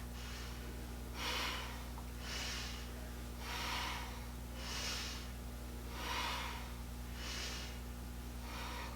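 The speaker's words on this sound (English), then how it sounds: "Breath should be audible, deep intention and awareness with the breath." Deep, audible breaths during a Kundalini yoga practice, about seven slow even cycles of breathing in and out, soft and close over a constant low hum.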